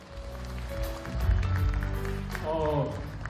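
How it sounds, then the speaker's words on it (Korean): Guests at a book launch clap briefly under a mix of voices and room noise, with the applause moderate and somewhat muffled. "여러분 뜨거운 박수로 다시 한번 축하해 주세요"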